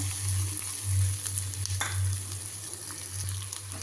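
Four dried red chillies and a few curry leaves frying in hot oil, a steady close sizzle with a low electrical hum beneath. One brief scrape of stirring cuts through midway.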